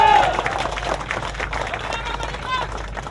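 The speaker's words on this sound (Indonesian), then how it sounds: "Mari kita beri tepuk tangan buat Kota Jakarta." Applause from a crowd at a Jakarta press conference, steady dense clapping that starts loud and tapers slightly, with a few whistle-like tones and murmuring voices mixed in.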